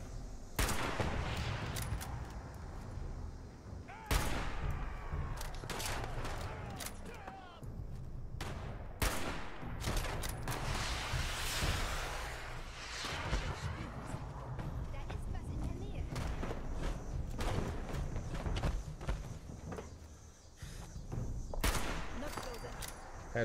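Gunfire in the Fallout 76 video game, bursts of sharp shots and rapid volleys scattered throughout, with people talking over the action.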